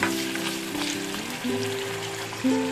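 Soft, continuous sizzling of curry leaves frying in a pan for bisi bele bath, with faint music in the background.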